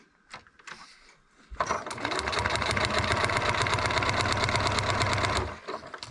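A domestic sewing machine runs steadily for about four seconds, stitching fabric pieces onto a paper-pieced quilt block. It starts abruptly after brief handling noises, keeps a fast, even mechanical rattle, then stops.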